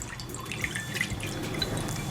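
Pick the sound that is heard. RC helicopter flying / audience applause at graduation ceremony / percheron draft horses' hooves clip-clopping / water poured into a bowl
water poured into a bowl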